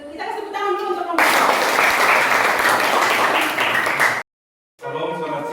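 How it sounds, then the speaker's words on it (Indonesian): Classroom applause for a presenting student group during a field practice session, a dense burst of clapping from many people lasting about three seconds, cut off abruptly, with talking before and after. "Kita kasih tepuk tangan dulu untuk kelompok."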